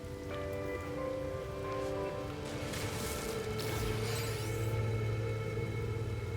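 A mining tool in No Man's Sky gouges a hole in the ground, giving a continuous crackling, rushing roar with tonal hums beneath it that swells and grows louder over several seconds, with no voices.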